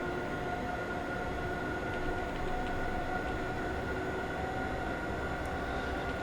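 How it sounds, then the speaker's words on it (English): A BR101 electric locomotive driven through Germany's Lenne Valley toward Hagen in Train Simulator 2017 hums with a steady, continuous rolling drone and sustained tonal whine, moderately loud and even throughout with no talking. "And I'm driving a BR101 loco at the moment."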